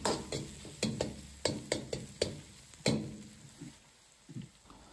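Pork belly stir-fried with scallion, ginger, garlic and Sichuan peppercorn, a spatula clacking and scraping in quick irregular strokes over a faint sizzle, tapering off near the end.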